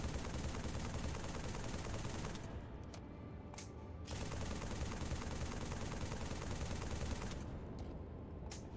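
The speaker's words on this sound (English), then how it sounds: "I wonder if I can just assault rifle it to death" Assault rifle fire in Halo 3 rattles in long, loud, continuous automatic bursts, broken by a couple of brief pauses.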